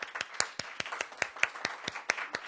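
Audience at a poetry open mic clapping, a sparse, fairly quiet round of about a dozen distinct hand claps in a loose, uneven rhythm, close by and without talk.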